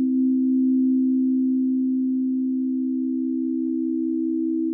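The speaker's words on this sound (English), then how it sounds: "in perfect tuning, when I play, for instance, a major third" Synthesizer holding a major third in just, perfectly tuned intonation, a smooth pure sustained tone that stays loud and steady with no beating, heard alone without talk.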